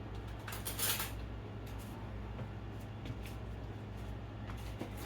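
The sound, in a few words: spoon scraping and stirring in a bowl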